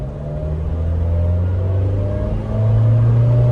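A Mahindra Thar diesel automatic in 4H revs with a loud, close, steady engine drone that climbs in pitch and grows stronger near the end.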